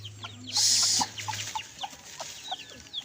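Chickens clucking in short, scattered bursts nearby, with a brief hissing noise in the background early on.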